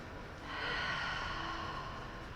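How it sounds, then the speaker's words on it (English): A single long, deep breath is drawn and released softly up close in a restorative yoga pose, steady and airy, with no talking. "take 3 deep breaths"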